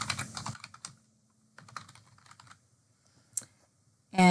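Bursts of quick clicky typing on a computer keyboard, close and alone, coming in short runs broken by pauses, with one isolated keystroke before a louder thump at the end.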